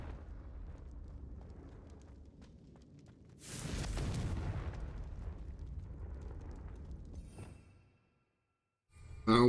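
A Confringo blasting spell explodes in Hogwarts Legacy on Nintendo Switch with a sudden loud burst, then a rumbling roar that lingers for several seconds before cutting to silence.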